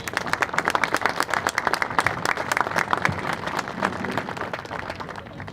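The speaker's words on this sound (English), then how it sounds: "we ask that you would show your appreciation by giving a big round of applause for these outstanding officials" Spectators at a girls' high school soccer state quarterfinal applaud the match officials, with sustained, vigorous clapping that stays loud throughout, without speech.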